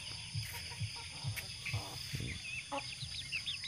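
Chickens on a backyard farm with pigs, soft repeated low clucks in an irregular rhythm, faint, over a background of high insect chirping.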